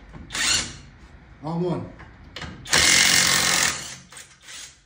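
A 1/2-inch Alloyman impact driver removing a fastener fires in several loud bursts of buzzing hammering, the longest lasting about a second, with a brief spoken phrase between bursts.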